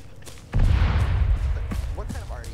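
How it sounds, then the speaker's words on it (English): Artillery fires in a Halo mod battle: one heavy, deep boom that rolls on and fades over about two seconds, with a voice speaking over its tail. "That artillery's firing."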